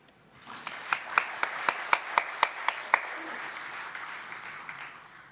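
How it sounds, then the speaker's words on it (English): After an award speech at a medical conference ceremony, an indoor audience breaks into applause. It builds quickly, carries a run of evenly spaced sharp claps from nearby, then fades out. "give another big round of applause to our Master of Masters 2026"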